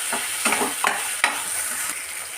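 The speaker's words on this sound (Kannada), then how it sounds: "ಸೊ ಮಿಕ್ಸ್ ಇಟ್ ವೆಲ್, ಚೆನ್ನಾಗಿ ಮಿಕ್ಸ್ ಮಾಡಿ ಎಲ್ಲನೂ" Chinese chicken fried rice with soy sauce being stirred in a pan, with a steady sizzle and several scraping strokes of the spatula spaced through the short stretch.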